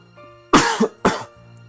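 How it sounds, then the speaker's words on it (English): A character in the video game The Letter coughs twice in quick succession, close and fairly loud, with a short throat-clearing rasp between the two bursts against a quiet background. "I've had this cough for ages"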